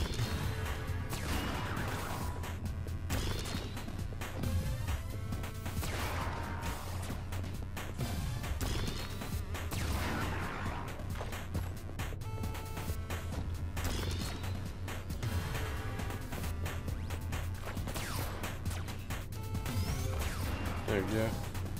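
Ricochet shots fired in the video game Super Time Force, dense and loud bursts of crashing impacts and swishes layered over continuous game music, with no break across the clip.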